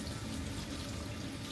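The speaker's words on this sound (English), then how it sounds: "Let me wash my hands in the meantime," Running kitchen tap water as hands are washed between cooking steps, a short, steady, close splashing flow with no talk.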